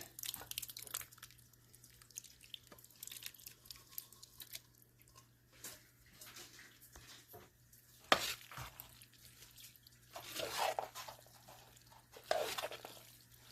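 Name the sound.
adding beans to turkey chili mac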